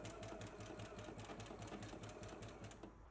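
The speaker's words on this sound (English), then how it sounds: "we're going to stitch across using a 5/8 of an inch seam allowance" A sewing machine zigzag stitching a 5/8-inch seam on a dress: a fast, even mechanical whir with regular needle ticks, close and steady, then slowing at the end.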